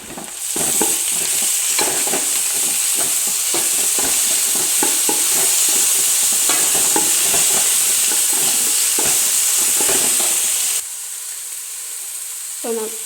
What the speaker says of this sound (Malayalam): പച്ചമുളക് വെളുത്തുള്ളി ഇഞ്ചി ചതച്ചിട്ട് ചേർത്ത് കൊടുക്കാം ഇത് നന്നായിട്ടൊന്ന് മിക്സ് ചെയ്യാം